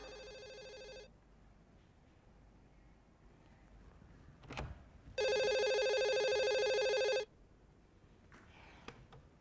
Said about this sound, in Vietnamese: Cô Huyền Diệu, cô có điếc hay không mà không trả lời điện thoại về hả?